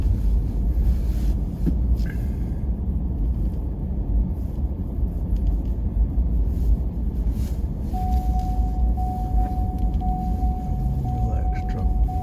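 A pickup truck creeps along a snowy road at about ten miles an hour in seven-degree cold, its low steady engine and tire rumble filling the cab continuously, with a faint steady tone joining partway through.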